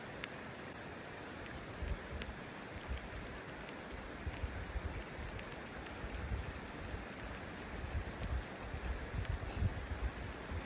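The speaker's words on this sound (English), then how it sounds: "it's just started to rain" Steady rain patters down over an outdoor bushcraft cooking spot in the Scottish wilderness, a dense continuous hiss with scattered heavier drops close by, no voices.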